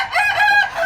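A rooster on a chicken farm gives one short, loud, close crow that rises and falls within a second.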